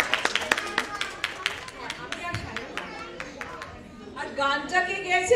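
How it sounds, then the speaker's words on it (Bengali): Audience applauding for the leader of an orchestra at a Valentine's Day celebration on stage: a burst of claps from a crowd, building toward the end, with a voice talking over it. "একটা জোরে হাততালি হয়ে যাবে তরুণ গুহর জন্য"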